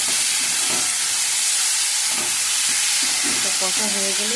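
Paneer-style chicken pieces sautéing in a pan for palak chicken give a loud, continuous close sizzle and hiss, with faint stirring and a brief voice near the end.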